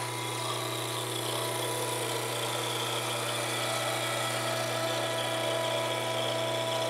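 A Comtec 1100 hydraulic pie press running, giving a constant steady mechanical hum with a high whine, close and unchanging with no talk.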